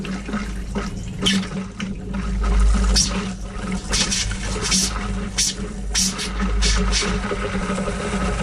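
Water gushes from the kitchen faucet of an RV travel trailer being winterized, a close, steady rushing stream broken by sputtering bursts as the flow settles.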